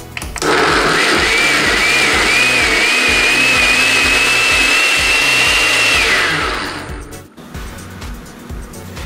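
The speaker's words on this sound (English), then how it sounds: "now we're just going to let it blend until it breaks up all the almonds" A countertop blender runs loud and steady for about six seconds, pulverising almonds with water for almond milk, its motor whine rising slightly before winding down and cutting off, followed by quieter rattling.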